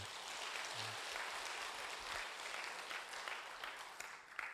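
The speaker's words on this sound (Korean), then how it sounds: "크게 박수 한번 해줘요." Congregation clapping during an early-morning church service, a fairly faint, steady patter of applause from a gathered crowd that fades slightly toward the end.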